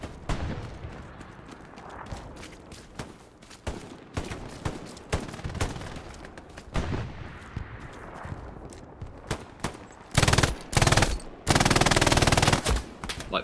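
MG42 machine gun fire in a competitive match on Omaha, with scattered distant shots early, then close, loud sustained bursts of rapid automatic fire near the end.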